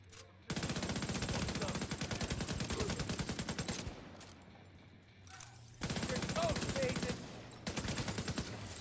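Video game gunfire aimed at an enemy shield, long loud bursts of rapid automatic shots broken by short pauses, with game sounds between bursts.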